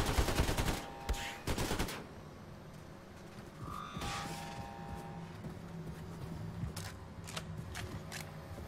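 Vaporizer gun fire in Wolfenstein 2, loud rapid bursts in the first two seconds, then quieter game ambience with scattered clicks and a few faint later shots.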